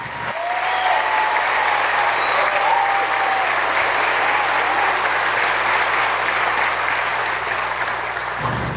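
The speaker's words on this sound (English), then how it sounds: "please join us in giving these fine soldiers a round of applause" Audience applause for graduating infantry soldiers at a Fort Benning graduation ceremony, a loud, dense and steady roar of clapping from a large crowd lasting several seconds before cutting off abruptly.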